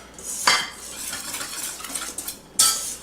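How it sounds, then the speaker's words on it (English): Muffin batter made with yogurt being whisked in a bowl, giving a close, steady scraping swish. Two sharp clinks of the whisk striking the bowl rim stand out, with no voices. "So we're going to combine this with a whisk so that it's well distributed"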